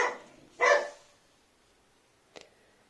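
A dog barks indoors, two close, loud barks in quick succession, then a short faint yip after a pause, with no talk over them.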